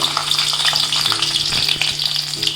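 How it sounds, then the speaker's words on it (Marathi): Garlic dropped into hot oil in a kadhai while cooking misal pav, a loud close crackling sizzle with light stirring clicks throughout, no talking. "कढईत तेल तापत ठेवला आहे लसूण टाकते"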